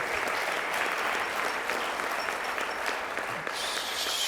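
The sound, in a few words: audience applause at an induction ceremony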